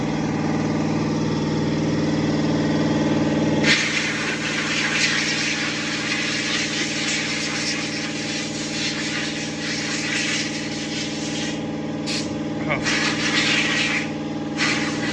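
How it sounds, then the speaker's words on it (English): A garage air compressor runs steadily for the whole stretch, a loud continuous motorised drone with a strong low hum and a broad hiss that thickens after the first few seconds, with no talk over it. "Sorry for the compressor sound."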